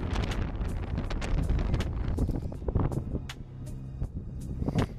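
Strong, hurricane-like gusting wind on a rainy March outdoor run buffets the microphone with a constant loud rumble and roar, and no one speaks.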